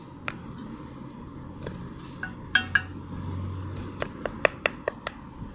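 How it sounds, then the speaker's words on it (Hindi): Metal spoon clinking and scraping in a pot while pigeon biryani is mixed with chili, several sharp, scattered taps over a low rumble, no speech. "तो इसको फिर मिक्स करेंगे।"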